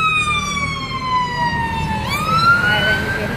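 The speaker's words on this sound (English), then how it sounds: "Fire engine. Coming around" A London fire engine siren wails nearby, a loud two-tone sweep that drops in pitch and then rises again as it comes around, over a steady background of city traffic.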